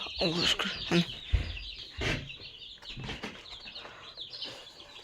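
Broiler chicks hatched from an incubator peep and chirp close by in short, repeated calls, with a voice speaking in between.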